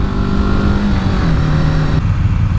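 A BMW G 310 GS single-cylinder motorcycle revs hard on a ride: a loud, close, buzzing engine note climbs steadily in pitch, then drops back as the throttle eases.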